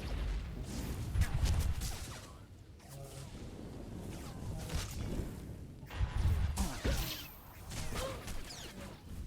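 Bursts of blaster gunfire from the Star Wars: The Old Republic video game crackle in clustered volleys, mixed with whooshes and impacts that swell and fade in waves over several seconds.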